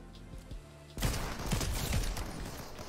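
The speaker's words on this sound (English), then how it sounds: "I shotgunned him in the ass" A video-game shotgun fires in a dense burst of sharp blasts after a quiet moment, loud and close, with more rapid gunfire trailing on.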